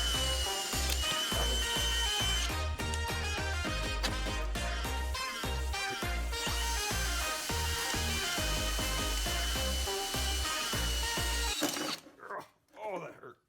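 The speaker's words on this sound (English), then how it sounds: "So I'm going to go ahead and drill the holes here" Power drill boring holes in a metal plate during a Kitty Kat 9hp engine swap, a loud steady whine repeatedly starting and stopping, then cutting off near the end before a voice speaks.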